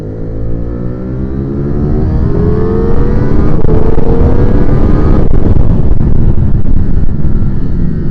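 A 2022 Ducati Streetfighter V4 motorcycle with a V4 engine roars loudly on a race track, its engine note climbing steadily under hard acceleration as another rider passes close by.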